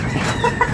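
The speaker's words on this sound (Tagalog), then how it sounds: "Yung manok." A backyard chicken, kept among ducks and pigeons, clucks in short, close bursts over a steady low background hum, with no talking.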